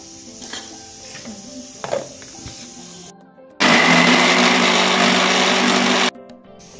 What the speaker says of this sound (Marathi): हे आता आपण मिक्सरला फिरून घेऊया